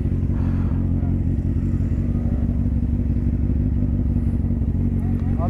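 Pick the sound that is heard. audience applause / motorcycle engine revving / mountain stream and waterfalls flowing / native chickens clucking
motorcycle engine revving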